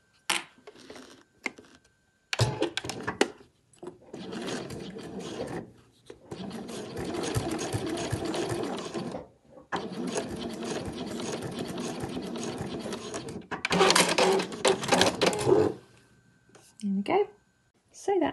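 A sewing machine stitches down the pocket panel of a fabric travel document wallet in several runs of steady whirring with short stops between, while someone talks now and then.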